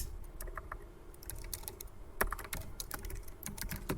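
Someone typing on a computer keyboard while working in MS Word 2010, a quiet, close stream of irregular key clicks with a few brief pauses and sharper taps.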